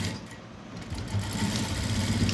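A sewing machine stitching a blouse gives off a steady, close mechanical whir that grows louder and denser after about a second and runs on alone without talk.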